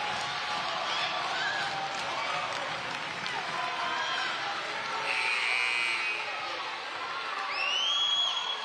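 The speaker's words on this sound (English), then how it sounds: "Well, now you have the crowd involved." Crowd at a girls' high school volleyball match, Revere vs. Highland, cheering and shouting in a gym, a moderate sustained roar with whoops and a swell near the end, with talk over it.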